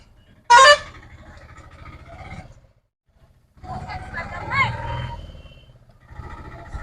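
A Piaggio Ape auto rickshaw on a test round gives one sharp horn honk, then its engine chugs and rumbles nearby through short pauses, with people talking over it.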